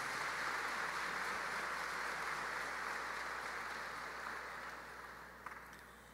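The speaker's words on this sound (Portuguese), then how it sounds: "uma salva de palmas para os pais de nossos" Steady, distant applause fills a church during a Catholic diaconal ordination Mass, honoring the parents of the newly ordained seminarians. The even wash of many hands holds for several seconds, then gradually thins and softens.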